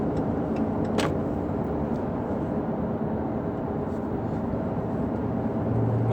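A car climbs a hill on a highway, its engine and road noise forming a constant, loud broadband rumble that stays steady from start to finish with no talk.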